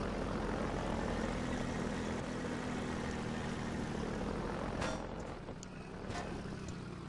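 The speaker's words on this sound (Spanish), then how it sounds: "Eso es un helicóptero." Helicopter in the video game Half-Life 2, a steady droning rotor and engine roar that holds continuously, with a few brief clanks near the end, no talk over it.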